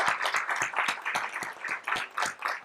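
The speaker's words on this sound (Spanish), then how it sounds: "Así que les pido un aplauso para ustedes son los protagonistas de este seminario." Seminar audience applauding at an artificial intelligence conference, distinct individual claps from a smallish crowd in an uneven rhythm, moderately close and fairly quiet, with no speech over it.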